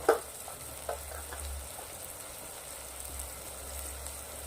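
Green chilli and chopped capsicum sauté quietly in a pan for a Lahori suran sabji, a faint, steady sizzle with a couple of light stirring clinks at the start.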